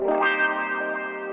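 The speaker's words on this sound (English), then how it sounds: "I've just used some wah guitar kind of accents here that I've got." A sustained, effected guitar phrase with a swelling wah tone, distorted and drenched in echo, playing alone at steady loudness.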